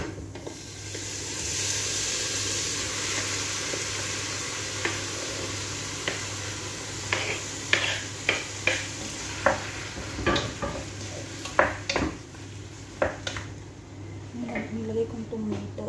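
Tomato goes into sizzling garlic and onion, and a spoon stirs the pan with a steady run of sharp scrapes and clinks over a constant fry hiss, while a person talks throughout.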